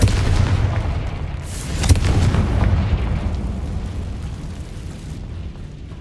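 A Confringo spell explosion in the Hogwarts Legacy video game, a loud booming blast with a rolling rumble that swells briefly, then decays slowly over several seconds.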